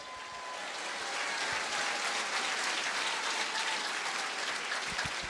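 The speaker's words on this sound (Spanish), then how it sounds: "Que fuerte aplausos" Sustained applause from a large crowd at a church service, a dense steady wash of clapping that swells in and holds throughout.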